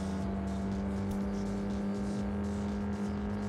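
A Toyota Trueno engine in the video game Drive Zone Online holds a steady, droning rev with a low rumbling note, constant and fairly loud with no speech.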